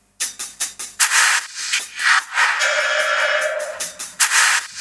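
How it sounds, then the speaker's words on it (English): Soloed hi-hat loop from the intro of a track's drums, with tape delay and a phaser widening it: crisp, bright ticks in a steady rhythm that blur into a washy, sustained shimmer, loud and alone. "I have this hi-hat loop"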